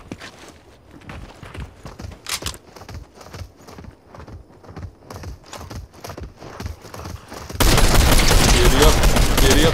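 Galloping horse hooves in the Fortnite video game, a rapid rhythmic clip-clop under bursts of game noise and distant gunfire, ending in a loud, dense wash of sound.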